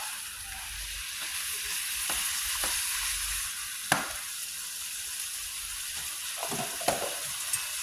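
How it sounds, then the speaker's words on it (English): Chicken liver frying in a pan for a Jamaican breakfast alongside plantain, a steady bright sizzle with a few soft stirring scrapes and light clacks, close and without talk. "my liver has started to get a little color. So I'm gonna go ahead and gently stir that."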